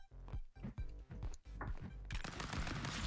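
Gunfire in the Stick Fight brawler game, a quick run of sharp shots followed by a dense, noisy burst of rapid fire toward the end, loud and close.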